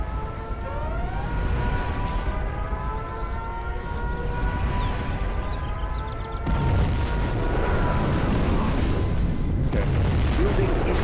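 Nuclear missile strike on a GLA base in a strategy video game: a rising siren tone wails over a dense, loud rumbling roar that thickens into a heavy sustained blast-like wash partway through.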